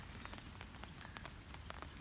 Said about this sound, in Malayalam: നല്ല മഴ പെയ്യുന്നുണ്ട് കേട്ടോ.